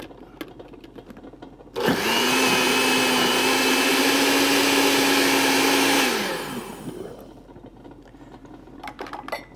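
A kitchen blender purees mango with coconut milk, switching on sharply and running at a loud, steady whine for about four seconds before spinning down, with quiet handling noises before and after.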